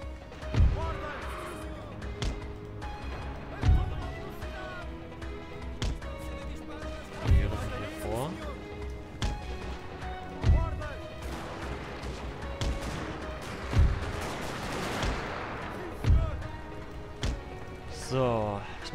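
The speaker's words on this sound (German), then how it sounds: "Wir werden wieder mit normalen Kanonen schießen." Repeated heavy cannon blasts every few seconds, each a sharp thump with a rumbling tail, over a busy layer of music and clattering battle noise, in the video game Napoleon: Total War.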